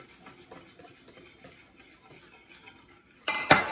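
A spoon stirs milk into a mixture with soft repeated clinks and scrapes against a bowl, quiet at first and then a louder burst of clattering at the end.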